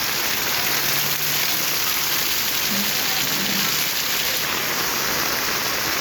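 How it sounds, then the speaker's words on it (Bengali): Heavy rain pours steadily in a Dhaka neighbourhood by a new road and a vegetable market, a dense, loud, unbroken hiss with no voices. "মুষলধারে বৃষ্টি"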